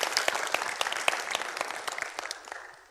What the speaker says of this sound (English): And people clap now for what I just told you